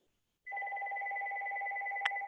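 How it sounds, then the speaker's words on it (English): A mobile phone rings during a knitting demonstration, a steady electronic ringtone with two sustained pitched tones that starts abruptly and continues loud and alone, with a brief click near the end. "I don't know why my phone is ringing."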